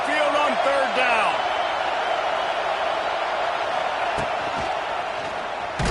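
A College Football 26 video game stadium crowd roars steadily for the Alabama Crimson Tide on third down at Saban Field. The dense, loud wash of crowd noise carries a few sharp thuds and some faint whoops.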